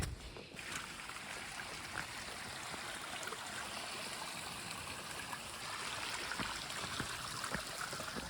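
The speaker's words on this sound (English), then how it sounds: "It's the stream." A stream flowing beside a hiking trail, a continuous soft rushing and trickling of water heard faintly and steadily with no one talking.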